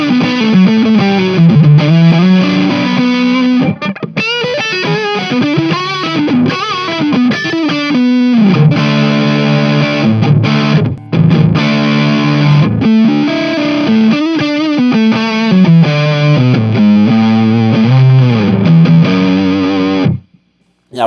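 Electric guitar played through a Joyo UZI distortion pedal, a budget Marshall-style drive, roars with loud, continuous distorted riffs and sustained chords for about twenty seconds before cutting off abruptly, with no talking.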